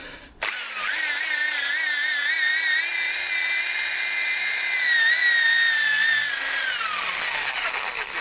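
Power drill with an auger bit boring into a log, a steady high whine that holds for several seconds then winds down, close and loud, with no talking.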